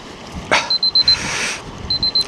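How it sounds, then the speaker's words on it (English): An alarm goes off outdoors during an oil plein air painting session, sounding as two bursts of rapid, evenly spaced high beeps, five or six to a burst, over faint background hiss and one sharp knock. "Right, turn the alarm off."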